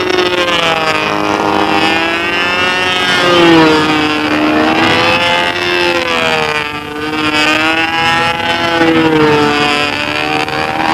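A model aircraft engine runs at a flying contest, a loud, continuous high-pitched buzz whose pitch sweeps up and down as it revs, with no voices over it.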